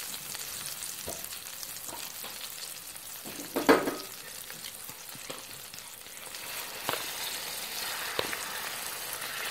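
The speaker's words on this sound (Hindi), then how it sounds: "प्याज कटे हुए जिमें भी प्याज़ों को हल्का हल्का सुर्ख करेसू" Chopped onions frying until browned, a constant hiss of oil with scattered stirring knocks and one louder scrape partway through, fairly quiet and close, with no talking.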